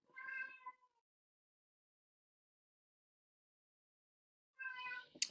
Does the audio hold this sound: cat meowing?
yes